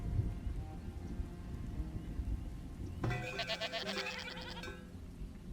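Goat bleats in the Farthest Frontier game, a harmonic cry rising out of steady rain-like ambience about midway, lasting over a second before fading back under the patter.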